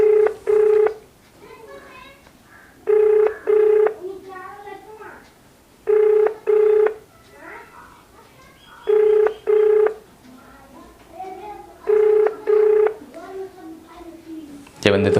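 An outgoing phone call rings unanswered over speakerphone, paired ringback tones repeating every three seconds in a steady rhythm, with faint voices and background chatter between the rings.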